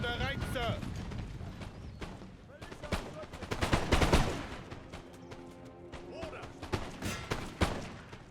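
Napoleonic musket volley on a wooded battlefield in Napoleon Total War, with sharp shots and rolling crackles rising to a dense burst midway, mixed with battle clatter and game voices.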